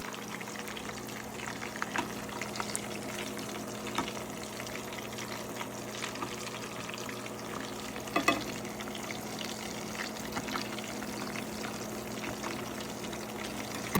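Jamaican escovitch fish frying in oil, a continuous even sizzle and bubbling with a brief clatter partway through, heard alone without talk.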